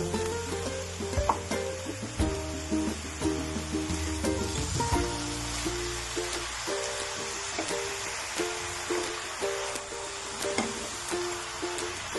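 Grated carrots for gajar halwa, one kilo with sugar and a spoon of desi ghee, roasting in a pan with steady soft sizzling and stirring scrapes throughout, close by with no talk.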